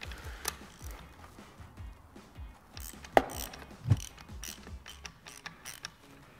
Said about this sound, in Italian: Prendiamo il cricchettino.